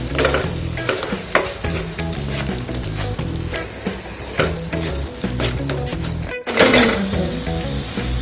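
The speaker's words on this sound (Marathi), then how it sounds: "लाल तिखट आणि धने पावडर. छान मिक्स करून घ्यायचं आपल्याला." Baby corn with red chilli powder, coriander powder and onion-garlic masala stirred in a frying pan, giving loud, close sizzling and rhythmic spatula scraping that briefly cuts out near the end.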